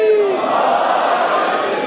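A large crowd at a Shia majlis in an imambargah roars a Nara-e-Haidari slogan in reply to the call, a loud, sustained collective shout that holds steady before slowly fading.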